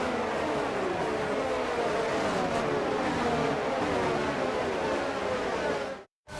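Formula One cars in the F1 22 video game run the formation lap, a steady broad engine and road roar that holds constant before cutting out abruptly near the end.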